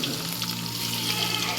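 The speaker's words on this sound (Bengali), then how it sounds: "একটু পনির দিয়ে দিচ্ছি, পনিরগুলো ভাজা হোক।" Paneer pieces frying in hot mustard oil, a close, continuous sizzling crackle at an even level with no talking.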